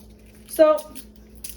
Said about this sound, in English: my dog is playing with one of her squeaky toys.